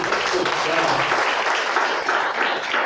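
A church congregation applauds steadily, dense clapping filling the space at an even level for a few seconds.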